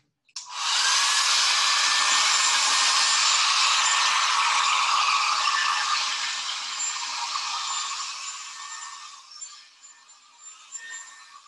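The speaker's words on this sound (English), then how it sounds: "I'm going to hit it one more time with the hairdryer." A hair dryer switches on and blows with a steady whooshing hum, close by, gradually easing in loudness toward the end; no talking.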